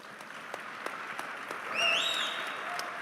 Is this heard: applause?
yes